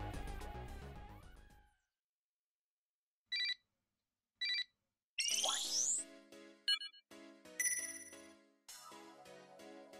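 A short series of bright chimed tones plays as a phone message alert in the visual novel game DRAMAtical Murder, then gives way to clear tinkling electronic cues and music, with no voices.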